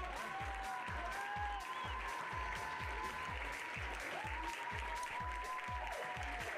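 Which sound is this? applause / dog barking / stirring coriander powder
applause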